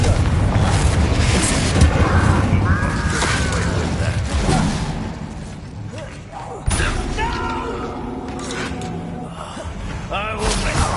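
A Confringo blasting spell explodes in a Harry Potter game scene, a loud boom with whooshing and slamming debris, followed later by a second sharp blast, amid voices and effects.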